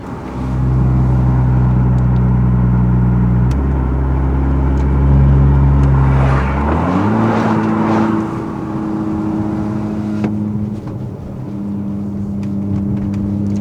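BMW X5 F15 with its exhaust valve opened, the engine droning loudly with steady low tones that climb partway through as it revs, then settle into a higher, sustained hum, with no talking.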